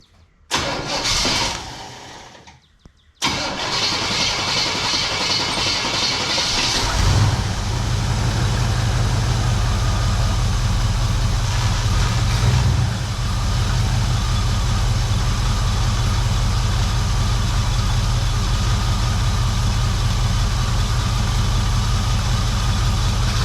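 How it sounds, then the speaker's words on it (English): A Chevy Luv truck engine, freshly refilled with oil, cranks briefly, pauses, then catches on a cold start and settles into a loud, steady idle that runs on without a break, with no voices. "Let's do a fresh oil cold start."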